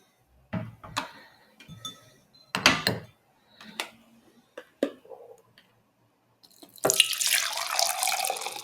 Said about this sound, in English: let's pour this off